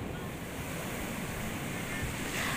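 Waves break steadily on the shore at Ketawang beach, Purworejo, Central Java, a loud continuous wash of surf with wind buffeting the microphone, no talk.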